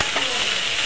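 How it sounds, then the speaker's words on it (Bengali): Grated egg and potato being stirred in a hot frying pan give a steady, close sizzle and frying hiss that runs unbroken through the short moment, with no talk. "দিয়ে ভালো করে নেড়ে চেড়ে মিশিয়ে নেব।"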